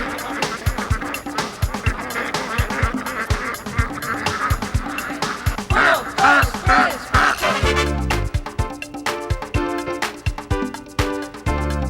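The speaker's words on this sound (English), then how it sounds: "We grow about 1 million ducks a year" A crowd of ducks on a large duck farm quacks continuously nearby, many overlapping calls forming a loud, busy chorus, with music coming in toward the end.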